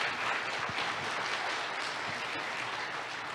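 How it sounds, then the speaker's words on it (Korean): Sustained audience applause at a university mission ceremony, a steady, full-bodied clapping from a large crowd lasting throughout, fairly even in loudness with no talking. "박수로 격려를 부탁드립니다"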